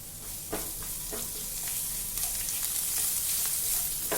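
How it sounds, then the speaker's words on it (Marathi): Green chilies sauté in hot oil for a dry vegetable dish, giving a continuous close sizzle with soft stirring scrapes and occasional pops. "मिरची चांगली परतून घ्यायची आहे"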